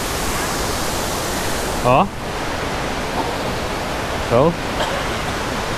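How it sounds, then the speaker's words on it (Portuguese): Waterfall cascading at a rural guesthouse, a loud, continuous rushing roar close by, steady throughout, with two short spoken interjections heard over it. "E olha essa cachoeira."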